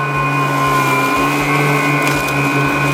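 A Lymow One robotic mower whirs with a steady motorized hum, loud and close, its pitch straining slightly as it chews through tall grass.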